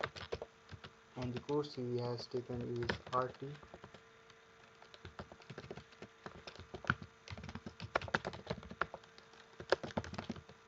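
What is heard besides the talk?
typing on a computer keyboard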